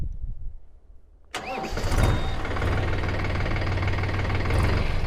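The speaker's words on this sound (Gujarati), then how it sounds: "ટ્રેક્ટરને તમને સ્ટાર્ટ કરીને ટ્રેક્ટરનો અવાજ પણ બતાવું" A Mahindra Yuvo tractor engine cranks and catches abruptly, then settles into a steady, loud, rumbling idle that continues close by.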